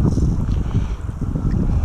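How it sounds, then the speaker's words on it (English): Strong wind on a small fishing boat out on choppy water at Baileys Harbor, a dense, continuous low buffeting roar close to the microphone, with no voices. "it's really windy"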